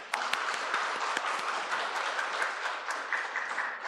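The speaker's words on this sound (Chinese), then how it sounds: "欢迎他，我们拍拍手好不好" Members of a Sunday worship congregation clap to welcome a visiting guest, a dense, even round of applause filling the room from start to finish.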